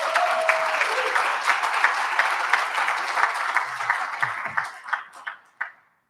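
An audience at a Bitcoin Cash conference in Saint Kitts and Nevis applauds in a full, steady burst of clapping that thins into a few scattered final claps and then stops.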